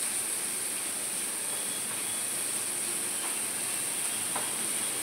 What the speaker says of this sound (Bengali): টমেটোটা দেওয়ার আগে এটাকে আমি ভেজে নিচ্ছি ভালো করে